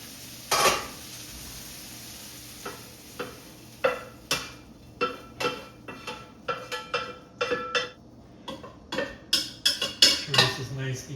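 Vegetables that have been browned are tipped into a pot while macaroni is being made, giving a run of sharp clattering knocks and scrapes of metal cookware and utensils at close range, with faint sizzling underneath.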